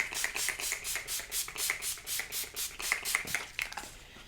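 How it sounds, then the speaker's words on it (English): A rapid series of short bursts of aerosol setting spray onto a face, about a dozen quick hisses in a steady rhythm, close up with no talking. "I am going to spray my face with All Nighter"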